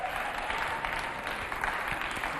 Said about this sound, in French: Applaudissements encore très très fort pour Camara